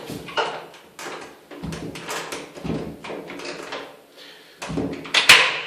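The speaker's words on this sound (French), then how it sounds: "La fermeture de la porte." A toilet room door being closed, heard as a series of nearby wooden knocks and a latch-like click, irregular bumps spread over several seconds with a sharper final thud.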